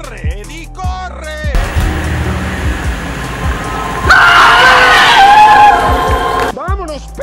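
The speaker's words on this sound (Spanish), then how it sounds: "lo que genera que las personas peguen un gran grito y corran despavoridamente" Frightened people scream loudly in a burst of noisy commotion mid-clip, framed by a voice talking at the start and end.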